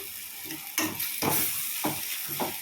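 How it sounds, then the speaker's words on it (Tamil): Soft sizzling of ginger garlic paste in a pan with a few scraping stirs of a spatula, steady hiss underneath, no voices. "நல்லா இஞ்சி பூண்டு பேஸ்ட்டை நம்ம வதக்கணும்."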